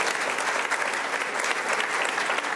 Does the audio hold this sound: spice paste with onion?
no